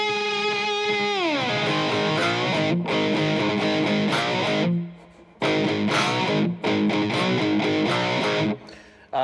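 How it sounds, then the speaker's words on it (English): Cigar box guitar played through heavy distortion and effects, loud sustained chords and riffs with a couple of brief drops in volume between phrases. "This pickup as well can handle pretty heavy distortion."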